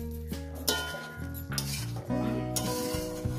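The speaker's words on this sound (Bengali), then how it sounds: "সুন্দর করে কষিয়ে নেব।" Tomato and spices for a fish curry with potatoes are sautéed in a pan, with spoon scrapes and clinks against the metal over a faint sizzle, steady and close with no talking.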